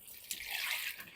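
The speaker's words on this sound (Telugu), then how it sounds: "మళ్ళీ నేను ఇందులో వాటర్ వేస్తాను." Water poured into tamarind pulp while cooking a fish tamarind stew, a soft brief splashing trickle that swells and fades, faint and close with no talk.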